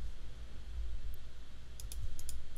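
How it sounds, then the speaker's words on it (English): Several light keystrokes on a computer keyboard while entering a value, a few sharp clicks clustered near the end over a low steady background hum. "So I'm going to type 1/3"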